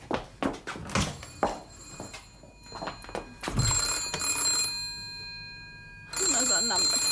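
An old landline telephone bell rings in bursts inside a car, with clattering thumps and handling noises before the trilling rings come through clearly and fairly close.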